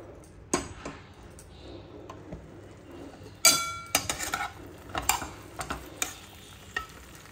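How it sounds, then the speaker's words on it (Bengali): Pointed gourd pieces frying in hot oil in a kadai give a quiet, low sizzle broken by scattered clinks and scrapes of stirring, busier in the second half. "আর তেলে এবারে আমি পটলগুলোকে ভেজে নেব"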